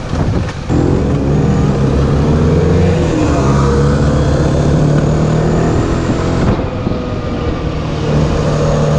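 A Limited Edition Mondial HPS 125 learner motorcycle pulls hard from first into second gear, its engine droning loudly and steadily with a clear shift break early on and another near the end.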